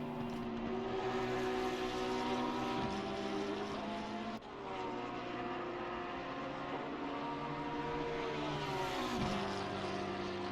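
V6 turbo GT3 race car engine in Assetto Corsa Competizione at the Nurburgring GP, a loud continuous droning roar with rising and falling pitch as the revs shift through gear changes, one sharp break midway.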